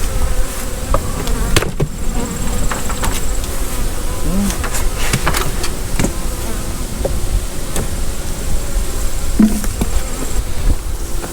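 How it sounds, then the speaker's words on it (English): Honey bees inside a hive fitted with a bee escape give a continuous close buzz, with occasional sharp knocks and clicks breaking through the drone. "You can tell there's a few bees in here"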